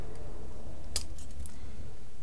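A pair of scissors snips through paper during a craft project making a small stamped pouch, giving one sharp close cut followed by a couple of lighter snips over low room noise.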